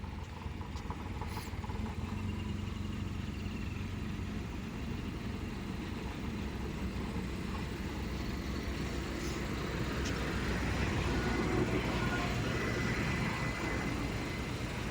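A car creeps slowly in reverse into a garage, its low steady engine rumble and faint road noise running evenly throughout with no talk.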